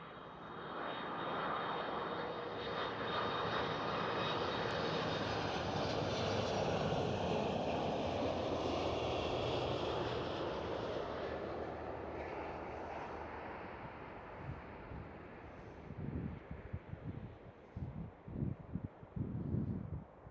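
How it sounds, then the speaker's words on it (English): A Delta Airlines Airbus A330 landing at Amsterdam Schiphol makes a long, broad engine roar that swells and slowly fades, with wind buffeting and gusty rumbles toward the end, heard from a distance outdoors. "Next one up is going to be Delta Airlines A330."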